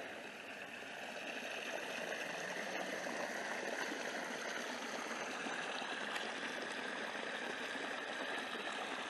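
Irrigation water flows steadily to flood onion fields, a continuous, even rush and trickle throughout with no voices.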